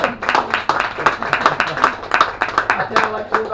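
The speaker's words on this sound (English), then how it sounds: "Ladies and gentlemen, a round of applause for Riley, Susie, Calvin, and Uncle Sam." Scattered clapping from a small audience at a baby naming ceremony, sharp individual claps in an uneven rhythm close by, with voices talking underneath throughout.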